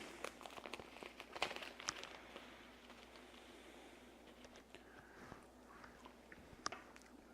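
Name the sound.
chewing dried Kirian thyme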